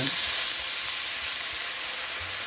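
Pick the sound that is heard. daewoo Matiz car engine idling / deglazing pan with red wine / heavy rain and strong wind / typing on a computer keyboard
deglazing pan with red wine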